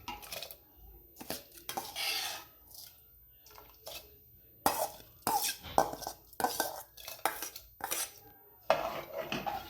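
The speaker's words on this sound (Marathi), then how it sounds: "आता यामध्ये आपल्याला हे धुवून घेतलेले तांदूळ घालायचे आहेत" Washed rice is tipped into a pot of water with half a spoon of ghee, bringing repeated metallic clinks and clatters of utensils against the pot in irregular bursts, close and moderately loud, with no talking.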